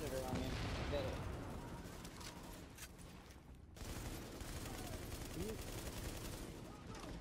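Incoming enemy gunfire in The Division video game, subway morgue setting: faint, sustained bursts of shooting and booms at a distance, briefly dropping out midway before resuming, with a voice talking over it.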